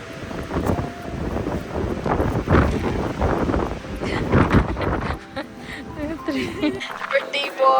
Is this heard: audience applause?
no